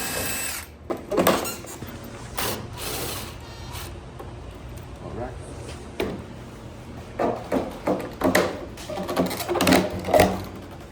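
Power tool unscrewing inserts from a vinyl fence gate post: short bursts of driver whirring and ratcheting, separated by pauses with clunks of handling, growing busier toward the end.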